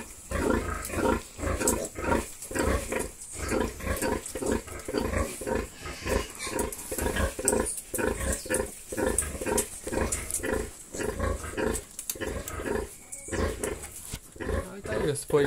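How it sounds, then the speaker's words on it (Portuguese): A sow nursing a litter of piglets in a pigsty cage grunts rhythmically in steady repeated pulses, with piglets squealing close by, while someone talks over the animal sounds throughout. "Essa porcada aqui mamando aqui também."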